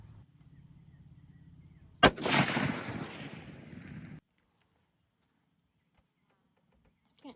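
A single rifle shot from a shooter firing without an elbow rest cracks sharply and loudly, then its echo rolls away for about two seconds before stopping abruptly. Quiet low rumble comes before it, and there is near silence afterward.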